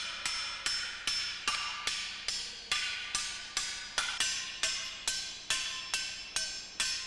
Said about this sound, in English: He senses the state of the aluminum through the difference in sounds and vibrations that his arms feel when he hammers the metal.